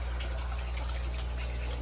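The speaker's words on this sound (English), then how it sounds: "some of the water, excess water, will overflow here" Excess water spills over from a holding tank into a crayfish pond, a steady close trickling and gushing flow with a low constant rumble underneath, brief and uninterrupted.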